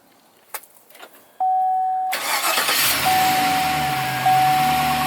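A 2007-2013 Chevrolet Silverado starts by remote start: a few faint clicks, a steady beep tone, then the engine cranks and catches into a loud, steady idle close by, with a second tone sounding over the running engine.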